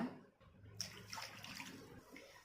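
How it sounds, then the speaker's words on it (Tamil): Water poured into a pan for cooking semolina, a faint brief splashing pour lasting about two seconds, quiet and close with no speech. "எந்த கப்பில் நீங்கள் ரவை எடுத்தீங்களோ அதில் 2 கப் வாட்டர் சேர்த்துக்கோங்க."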